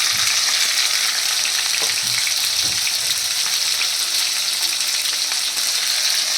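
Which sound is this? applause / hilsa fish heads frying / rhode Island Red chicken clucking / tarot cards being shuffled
hilsa fish heads frying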